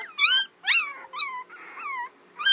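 A puppy whimpers in a run of high, close, pleading cries broken by short pauses, with a faint growly edge on some of them. No one talks over the sounds.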